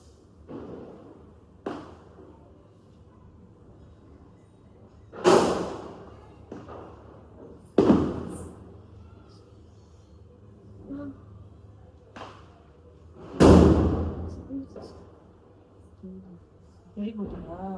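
Diwali firecrackers burst in a few sharp, loud bangs spaced several seconds apart, with quieter thuds between them, while people talk and chatter around them at home.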